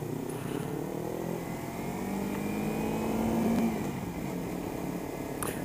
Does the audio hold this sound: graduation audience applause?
no